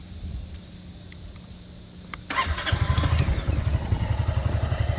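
After a few quiet seconds a Honda ADV350 motorcycle engine cranks and catches, settling into a loud, rhythmic idling putter close by.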